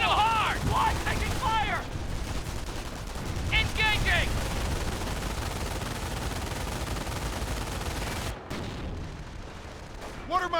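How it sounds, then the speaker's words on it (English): Quad .50 caliber machine guns on a half-track open up in a Company of Heroes battle: a dense, continuous roar of rapid gunfire that carries for about eight seconds, with brief voice callouts over it, then drops off sharply near the end. "my half-track with the quad 50 cals, which is just going to make sausage meat out of these, machine gunners"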